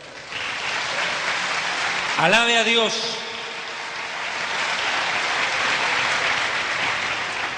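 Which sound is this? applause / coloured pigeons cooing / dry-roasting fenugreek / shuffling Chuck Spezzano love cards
applause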